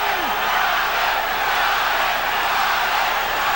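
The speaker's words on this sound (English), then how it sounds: "Crowd tries to become the 3rd man in the ring." Boxing arena crowd roaring during the Julio César Chávez versus Meldrick Taylor fight, a dense, loud, unbroken wall of cheering and yelling that fills the hall.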